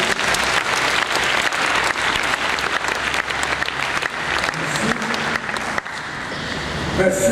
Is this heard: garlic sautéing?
no